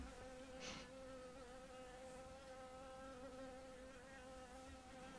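A small wasp buzzing close by indoors: a steady, thin droning hum that holds level for several seconds with slight swells, quiet overall.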